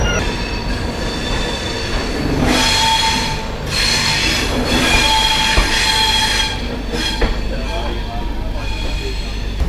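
The 22169 Rani Kamlapati–Santragachi Humsafar Express runs on rails with a loud, steady rumble of wheels and bursts of squealing and clatter, heard from inside the train with no one speaking.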